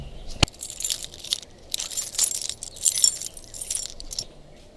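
A bunch of keys for a Lexus IS350 jingles close up in repeated bright bursts of metallic clinking, with a sharp tap near the start and brief pauses between shakes.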